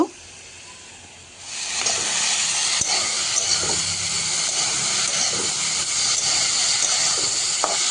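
Ground turmeric, salt and cumin hit hot oil with fried onions, bursting after a quiet second into a loud, steady hiss that holds to the end, with a few faint clicks.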